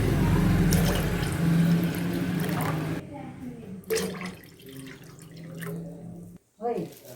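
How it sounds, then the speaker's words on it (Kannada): Water is poured into tamarind juice for a cold rasam, a close running splash over the first few seconds that then thins to intermittent trickles and drips, with someone talking over it. "ಇದಕ್ಕಿವಾಗ ಒಂದು ಮೂರು ಕಪ್ಪಾಗುವಷ್ಟು ನೀರು ಹಾಕ್ತಾ ಇದ್ದೀನಿ"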